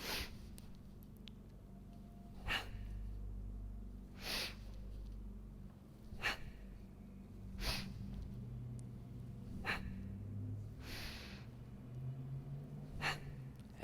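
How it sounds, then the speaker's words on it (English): Sharp, audible breaths repeat at a steady pace during drop Hindu squats, each inhale and exhale a short close huff roughly every two seconds, alone in a quiet room. "you stand and you have a breath in, and then you exhale and you catch yourself"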